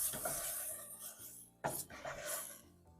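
Strawberries cook in a pot for sugar-free keto jam, giving a steady bubbling sizzle with scraping stir strokes and one louder clatter midway, close and continuous with no talking.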